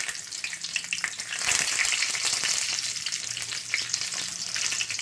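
Cumin seeds and curry leaves crackle and hiss in hot oil while cooking tomato rice, a steady close sizzle that swells louder midway and then holds, with no voices.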